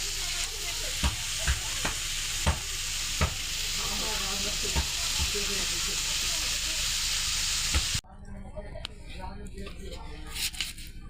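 Prawns cooking with banana in a pan give a steady sizzle with occasional stirring knocks, running under a speaking voice before the sound abruptly drops to a quieter, sparser hiss.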